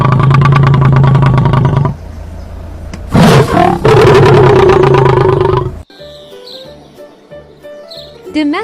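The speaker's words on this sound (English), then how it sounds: "Lion." A lion roars loudly and close, a long throaty call with a deep rumbling tail, alone with no other sound.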